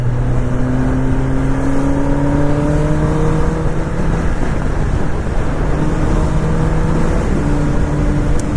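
A 2024 Kawasaki Ninja ZX10R motorcycle revs under throttle while being ridden, its engine note loud and close as the pitch climbs through the gears, over steady wind rush.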